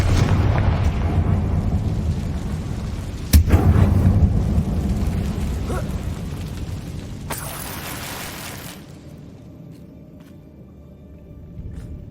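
A Confringo fire spell explodes inside an abandoned mine in the video game Hogwarts Legacy with one sharp, loud blast and a rumbling burst that fades into quiet cave ambience.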